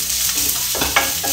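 Ingredients for coconut sevai are stirred together in a pan, a close scraping and shuffling of a spoon over the surface with a faint sizzle beneath, a few brief louder scrapes breaking the steady motion.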